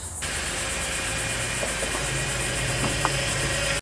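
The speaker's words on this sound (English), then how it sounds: "First thing you're going to want to do is start the car up" A 2008 Saturn Outlook engine cranks briefly and settles into a steady, loud idle, a close, even mechanical hum with faint ticking that runs without a break to the end.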